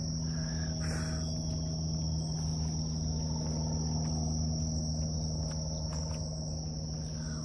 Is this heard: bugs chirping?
yes